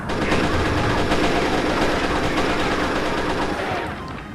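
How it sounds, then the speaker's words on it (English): A Gatling gun fires a continuous, loud, rapid burst in the Pirate Doom video game. The rattle is dense and unbroken for about four seconds, then fades slightly at the end. "That's a Gatling gun. I have a Gatling gun now."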